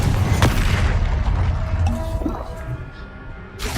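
A Confringo fire spell blasts in the Hogwarts Legacy video game, a deep booming explosion with a fizzing tail, followed by smaller impacts and another burst at the end, mixed with game sounds and some talk.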